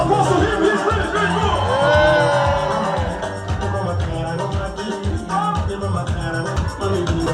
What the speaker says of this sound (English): Everybody give a round of applause to him.